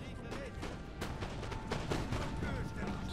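Massed cannon fire rolls across a Napoleon: Total War battlefield, a dense run of booming and cracking shots layered over one another at moderate distance, with battle voices mixed faintly underneath.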